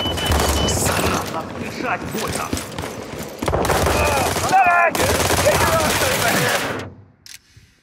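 Rapid bursts of automatic gunfire and blasts in the World War 3 video game rattle loudly and almost continuously, with a short break in the middle, then cut off into near silence at the end. Game voice lines sound over the shooting.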